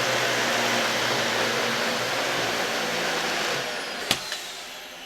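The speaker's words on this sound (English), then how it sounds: "Now let's contrast that with the portable vacuum" A Dyson portable vacuum cleaner runs with a steady, loud whooshing whine, then its motor winds down near the end, followed by a couple of clicks.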